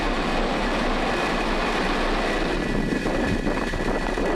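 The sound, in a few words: SpaceX Falcon 9 rocket ignition and liftoff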